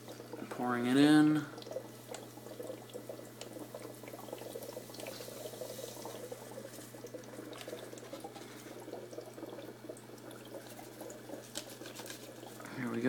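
Brine shrimp eggs being poured from a package into a hatchery, a soft continuous granular trickle and patter that follows a brief burst of talking at the start and runs alone under a steady background hum.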